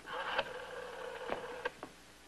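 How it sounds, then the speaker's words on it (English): An old rotary telephone being dialed to reach the operator, heard as a few soft clicking ticks over a faint steady background hum, with no talking. "Just dial operator."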